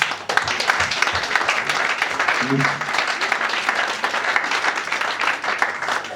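Audience applause for the musicians on instruments at a church conference, a dense steady wash of clapping that holds loud and even for about six seconds, with a brief voice near the middle.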